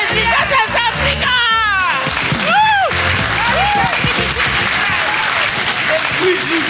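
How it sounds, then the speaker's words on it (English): A church congregation claps steadily and loudly in rhythm during a lively worship service, with singing and shouted praise over the clapping throughout. "Clap, clap, clap for Jesus."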